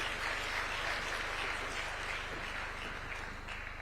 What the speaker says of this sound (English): Please, a round of applause one more time for His Excellency